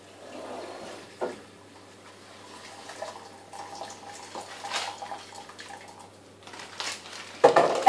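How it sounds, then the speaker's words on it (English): Boiling hot water pours from a kettle into a container of instant noodles, a quiet trickling and splashing with a few brief drips, ending in a louder final splash. "we are going to be pouring the water from the kettle, and it has to be boiling hot water"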